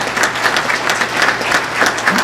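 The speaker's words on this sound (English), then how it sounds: "give those young people and those FFA advisors a round of applause" Audience at a Pitt County Farm Bureau candidates forum applauding young FFA members and their advisors, a steady, dense round of clapping filling the room at moderate loudness with no pauses.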